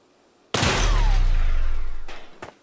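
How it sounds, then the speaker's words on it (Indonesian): Ricocheting shot in the video game Steamworld Heist II: one loud, booming blast with a long rumbling tail and a descending whine, followed by two quick sharp cracks near the end. "Wih, nembak yang bisa mantul."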